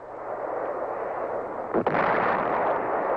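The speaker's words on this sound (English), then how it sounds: "Tactical fighters continue their precise attacks, complementing the heavy bombardment of the B-52s" Air bombardment by B-52s and tactical fighters pounds enemy positions at Khe Sanh, a steady distant rumbling roar broken by one sharper explosive crack partway through.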